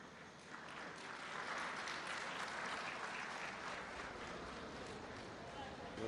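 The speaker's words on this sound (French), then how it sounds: "Sous vos applaudissements, s'il vous plaît." An audience claps steadily at a ceremony, a dense, moderately distant applause that holds without a break throughout and rises slightly at the very end.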